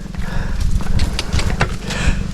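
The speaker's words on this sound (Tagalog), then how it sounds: "Kabayo." A horse on a rough, bumpy mountain road, its hooves clip-clopping close by in an uneven rhythm over steady low rumbling background noise.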